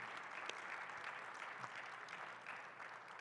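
Audience applause following a panel discussion at a trade expo, a steady dense patter of many hands clapping at moderate distance throughout, with no talk over it.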